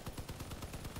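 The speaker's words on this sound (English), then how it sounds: "Come on, turret, kill Nicholas over here." In the Crossout vehicle-combat game, a deployed turret fires a rapid burst of automatic gunfire, with about a dozen evenly spaced, punchy shots packed into one second at a moderate, distant level.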